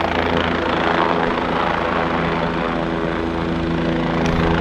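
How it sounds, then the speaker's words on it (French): A helicopter's loud, continuous rotor drone fills the air overhead, steady throughout without any break. "je sais pas pourquoi il y a un hélicoptère"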